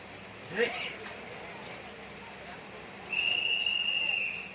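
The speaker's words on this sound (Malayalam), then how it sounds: "എറണാകുളത്ത് നിന്ന് വണ്ടി വിസിൽ കൊടുത്തു" A single sustained, high-pitched train departure whistle sounds toward the end at Ernakulam, steady for about a second over quiet background noise.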